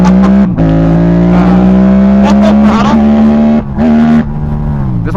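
A 2025 Yamaha R6 sport motorcycle launches and accelerates hard, its loud, close engine whine climbing steadily through the gears with brief drops at each shift.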